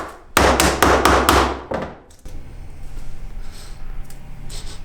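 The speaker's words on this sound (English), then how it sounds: "First, a hammer" A hammer smashes a Crunch candy bar with a quick run of four or five loud, sharp strikes, then a couple of lighter knocks, followed by quiet background noise.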